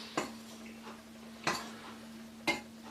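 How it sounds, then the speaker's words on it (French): A spoon clinks against a bowl while stirring a food mixture, three sharp taps spaced about a second apart over a steady low hum, close and fairly quiet. "Donc bien mélanger la préparation."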